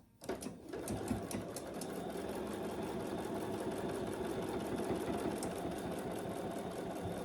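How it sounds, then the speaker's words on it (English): A sewing machine top stitching the side panel of a fabric clutch runs continuously after a brief start, a steady close whir with a fine ticking texture and no voices. "we'll fold that over and top stitch on our side panel"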